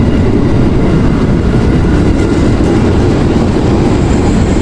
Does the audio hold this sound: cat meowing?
no